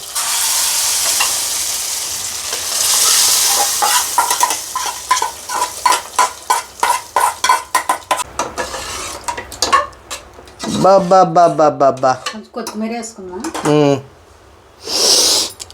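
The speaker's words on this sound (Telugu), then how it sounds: "అసలు ఏముంటుందండి తాలింపు చప్పుడు" A sizzling tadka for brinjal dal crackles loudly up close in the pan, with rapid rhythmic sputters and stirring clatter, while a person speaks over it partway through.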